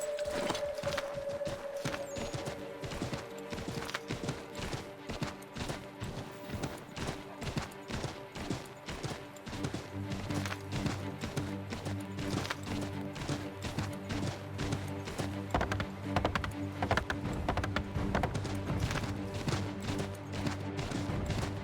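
Horse hooves clip-clop steadily in Assassin's Creed 3, a rapid, even run of hoof strikes over game music and low ambient drones, with no talk.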